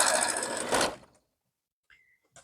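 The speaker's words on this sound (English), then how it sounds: "we'll start in the upper diagonal corner and sew down to the bottom" A sewing machine with a quarter-inch presser foot runs a diagonal seam across quilt fabric in a brief, close whirring burst of about a second, followed by silence and a couple of faint clicks.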